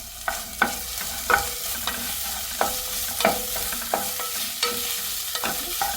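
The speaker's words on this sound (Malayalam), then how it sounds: "സവാളയും ഈ വെളുത്തുള്ളിയും ഒക്കെ അതിൽ നന്നായി മൂത്ത് വരട്ടെ." Sliced onion and crushed garlic fry in a pan for boiled egg rice, with a steady sizzle and regular scraping stirs about once a second, close and clear, with no voices.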